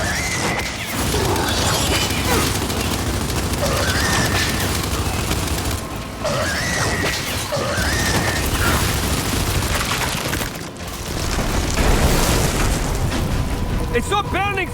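Gunfire at a pulsar creature in the video game Gears 5 Hivebusters, sustained heavy shooting and booming impacts under excited voices calling out.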